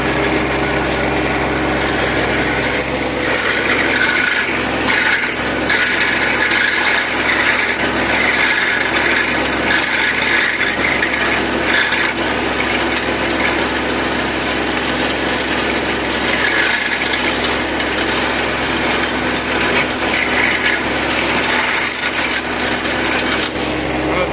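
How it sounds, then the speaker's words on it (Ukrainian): A loud tractor engine roars steadily while a Mateng NEFL 95 mulcher grinds and crunches through brush on hilly ground, with rattling and clattering throughout. "це все перемелюється. Трактор їде по горбах трохи."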